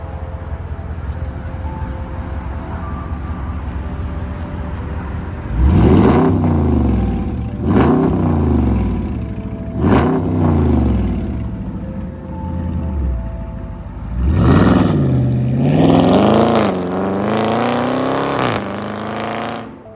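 A 2019 Dodge Charger Scat Pack with its mid muffler deleted revs hard several times outside, each loud rising blip falling back to a rumbling idle, with a longer rev near the end.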